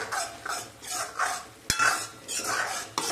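A spatula stirs and sautés spice masala in oil for a brinjal and potato bhaji over a low flame, making close, rhythmic scraping strokes with one sharp metallic clink partway through; no one speaks.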